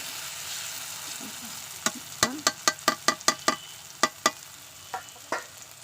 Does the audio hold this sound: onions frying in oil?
yes